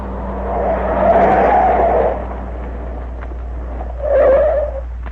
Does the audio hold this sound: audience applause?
no